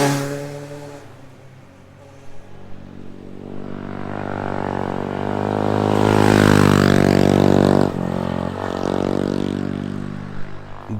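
Honda MSX 125 (Mini Street Extreme) small motorcycle riding past, its engine note rising loudly from about two seconds and swelling to a peak mid-clip with revs, then easing, close and continuous with no talk.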